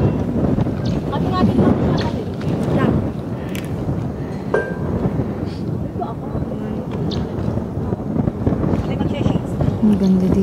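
Strong wind gusts buffet the microphone on the summit of Mt. Ulap during a day hike, a constant rough rumble, while people talk nearby.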